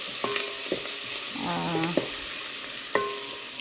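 Cashews, dried red chilies and curry leaves fry in hot oil, giving a soft continuous sizzle broken by a few sharp utensil knocks and brief tonal clinks, close by with no voices.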